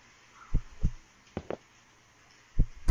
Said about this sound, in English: what's with the heartbeat?